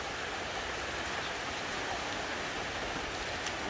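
Rain falls steadily outdoors near a sacred site in Yogyakarta, an even, soft hiss throughout with no voices.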